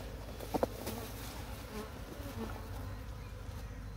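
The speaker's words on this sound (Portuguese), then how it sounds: "é um enxame já para produzir mel ainda nessa temporada" Honeybee swarm buzzing around a hive box outdoors after a storm, a continuous low hum with a few louder passes of individual bees close by.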